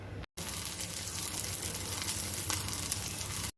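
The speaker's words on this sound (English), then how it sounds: "And now we are going to fry these tikkis." Tikkis fry in oil on a hot tawa over a medium flame, a loud, steady close-up sizzle that runs without a break after a brief silent gap at the start, then stops abruptly.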